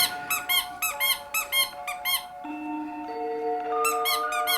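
A squeaky dog toy squeaks in quick bursts, several sharp, high squeals in a row, then a short tonal pause before more rapid squeaks, clear and close.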